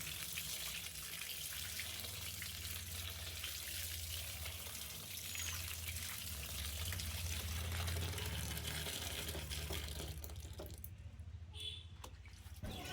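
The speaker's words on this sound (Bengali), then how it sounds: "এগুলো আমি কলপারে নিয়ে যাব, নিয়ে যে সুন্দরভাবে ধুয়ে নেব" Moringa (drumstick) leaves rinsed under running tap water: a steady, close rush of water splashing over the leaves continues throughout, easing slightly near the end.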